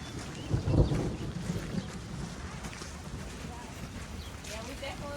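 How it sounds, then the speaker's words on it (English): Wind gusts and rumbling weather from an approaching thunderstorm sweep across a freshly planted pasture, a loud low burst early on settling into steady blustery noise, with people talking over it. "All right, here comes the rain. That storm's coming."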